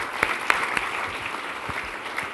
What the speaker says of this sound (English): So let's give him a round of applause for that.